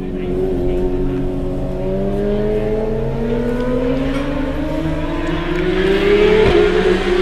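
Motorcycles run at the Dai Nam race circuit, a continuous engine drone whose pitch climbs steadily as the bikes accelerate, carrying from a distance with no talk over it.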